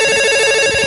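Telephone ringtone sounding as a loud, steady electronic tone, short and unbroken, with no voices.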